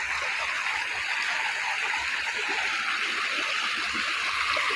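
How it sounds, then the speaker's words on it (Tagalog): A stream feeds into a large river, and the water rushes and trickles steadily with a broad, constant wash of noise, close and unbroken throughout, with no voices. "Kaya naman, merong sapa dyan. Diretso naman dito sa malaking ilog."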